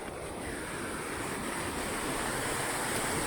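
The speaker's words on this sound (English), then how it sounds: "Pretty nice river though." River flowing through Mossman Gorge in the Daintree rainforest, a steady broadband rushing wash of water, loud and constant with no talking.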